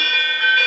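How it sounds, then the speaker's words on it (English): A fully automatic digital GPS school bell with a traditional sound rings as a steady, loud electronic tone that holds unbroken for the whole moment, with no voices over it. "5-second duration bell."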